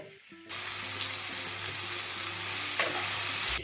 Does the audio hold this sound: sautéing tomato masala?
yes